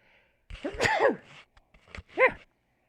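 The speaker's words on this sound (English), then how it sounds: "Sneezing." A close, forceful sneeze bursts out, followed by a brief pause, small clicks and a second short, throaty expulsion.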